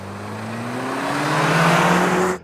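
Two Toyota Land Cruisers, an old V8 and a new four-cylinder turbo, launch side by side in a drag race, engines roaring loud and close with rising revs that build steadily before cutting off abruptly.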